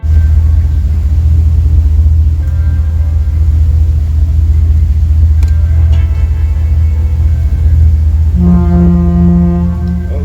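A boat on a Tennessee River trip gives a loud, steady low engine drone throughout, with a deeper horn-like tone rising near the end and no talking.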